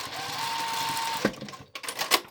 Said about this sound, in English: I'm going to sew my belt loops down again at the top